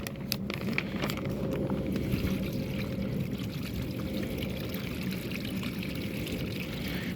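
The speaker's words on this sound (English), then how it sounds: "move it a little bit so that the water can start to flow off and you get a little relief." Pooled rainwater pours steadily off stretched plastic sheeting in a continuous close splashing stream, with faint crackles and trickles running throughout.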